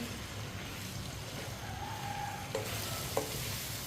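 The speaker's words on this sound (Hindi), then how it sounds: "अब मिक्स किए हुए आलू डाल लेंगे। मिक्स कर लेंगे।" Mixed potatoes fry in a pan with a soft, steady sizzle, while a spoon stirs and scrapes faintly with a couple of small knocks against the pan.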